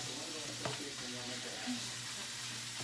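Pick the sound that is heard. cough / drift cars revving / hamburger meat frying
hamburger meat frying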